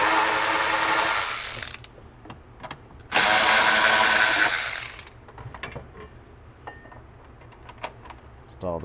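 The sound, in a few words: removing pre-installed bolts with a ratchet or power tool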